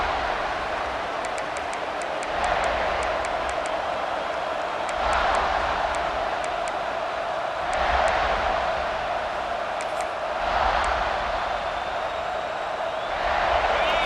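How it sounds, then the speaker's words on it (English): A fired-up home stadium crowd cheers in the College Football 26 video game, a steady roar that swells in rhythmic surges every few seconds. "this home crowd is fired up and ready to make a difference today"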